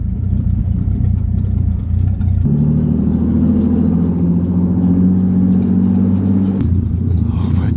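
A Bentley Continental GT drives with a steady, loud engine rumble that shifts to a heavier drone partway through, then eases back toward the end, with no talk.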